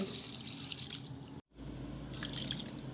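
Water pours steadily into a cooking pot holding chicken and green papaya for tinola, with a hissing splash; it cuts out for a moment, then resumes and runs on.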